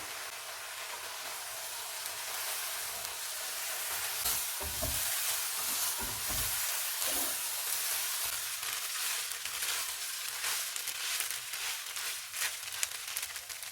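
Chicken spring roll filling cooks in a pan with salt, crushed black pepper and white pepper, giving a steady close sizzling hiss broken by a few soft stirring scrapes, with no talking.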